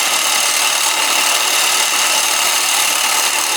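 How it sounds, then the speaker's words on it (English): A drill press runs steadily while bevelling out a hole for an LED ditch light switch during a 3rd-generation Toyota Tacoma install, giving a loud, continuous high whir throughout. "We're getting a drill bit to put in the drill press. That way we can bevel this out just a little bit more"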